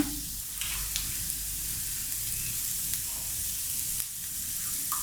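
Onions sautéing in a pan with salt for masala dosa filling, a loud, even sizzle hissing steadily throughout, with faint stirring clicks, close and with no talk.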